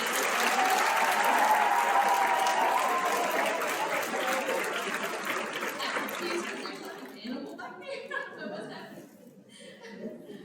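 A conference audience at a school library association general session applauds library supervisors, a loud sustained wash of clapping that swells early and gradually thins, with scattered chuckles and voices emerging as it fades out.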